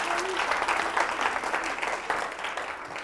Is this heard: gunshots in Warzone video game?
no